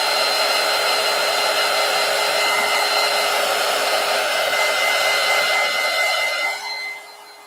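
A hair dryer drying paint along the edge of a collage, blowing as a loud steady whine and whoosh close by that drops off as it is switched off near the end.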